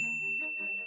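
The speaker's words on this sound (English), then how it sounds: "Pavlov rang a bell just before feeding time." A bell sound effect rings out, bright and clear with a sustained high tone over shifting lower harmonics, a single strike lasting under a second.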